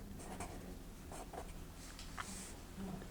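A pen scratches across paper at an art league session in short, soft, intermittent strokes, faint over a low steady room hum, with no talking.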